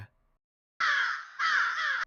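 A crow caws twice in a Tamil children's moral story, each caw harsh, loud and close, following a short silence.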